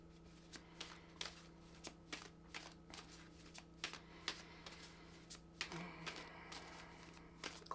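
A deck of oracle cards is shuffled by hand in a quiet room, with soft, close riffles and taps repeating at a steady, fairly quick rhythm, about twenty light strikes in all.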